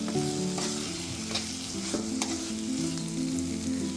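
Green tomato chutney with sugar being stirred in a hot pan gives a continuous close sizzle, broken by repeated scraping strokes of the spoon.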